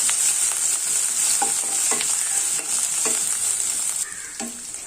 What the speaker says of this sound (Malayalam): ഇത് നന്നായിട്ടൊന്ന് വഴറ്റി കൊടുക്കണം.